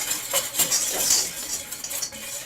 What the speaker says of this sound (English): we're going to use a whisk to sift it the new-fashioned way